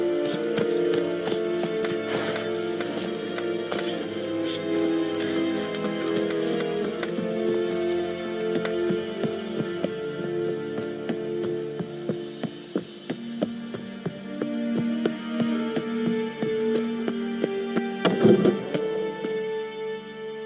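A horse gallops in The Witcher 3: Wild Hunt, its rhythmic hoofbeats pounding steadily for a long stretch under a sustained musical score, loud and close, with brief sharper thuds near the end.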